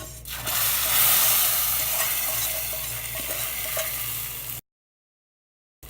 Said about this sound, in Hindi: अब हम इसमें फ्राई की हुई सेवइयाँ ऐड करते हैं।